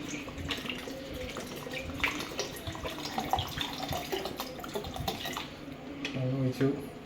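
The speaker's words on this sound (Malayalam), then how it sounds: "സ്വല്പം വെള്ളം ഒഴിച്ചിട്ട്" Water is poured into a bowl of homemade spiced buttermilk flavoured with ginger, giving a steady trickling, splashing flow under a person talking nearby.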